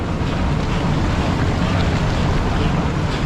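Maple sap boils hard in an oil-fired evaporator, giving a steady, dense rolling bubble and roar that holds at an even level without any pause.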